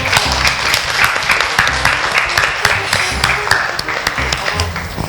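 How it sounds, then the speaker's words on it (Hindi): A studio audience at a dance and comedy show applauds in a loud, sustained burst of dense clapping, with a voice faintly mixed in below. "फिर एक बार दोबारा तालियां बनती है"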